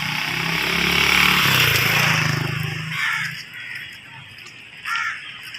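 A motorbike engine runs steadily during a ride with an older rider, a low rumble that fades after a few seconds while wind and road noise continue.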